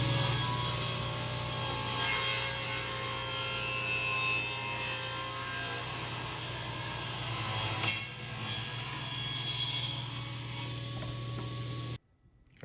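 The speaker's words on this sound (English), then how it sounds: "I've never tried to use this bandsaw to resaw before, so we're gonna give it a try." A bandsaw resawing a chunk of cherry wood gives a continuous low mechanical hum with steady rasping blade noise, close and even, then cuts off abruptly near the end.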